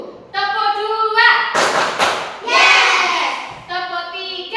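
A classroom of children chants in unison, then breaks into short bursts of loud rhythmic group clapping, before the chanting resumes.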